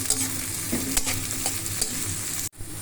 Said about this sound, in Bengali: পেঁয়াজটা একটু ভাজা ভাজা করে নেবো